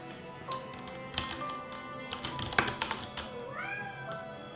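Fingernails tapping on a computer keyboard in quick, irregular clicks at close range, with short bursts and pauses and a faint meow-like tone near the end.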